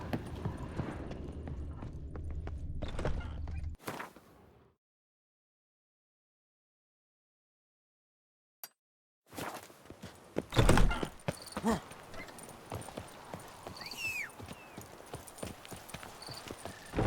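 Hooves of a horse thud and clop in The Witcher 3, first a muffled run, then a gap of silence, then resumed galloping with a loud thump and a whinny-like cry among game ambience.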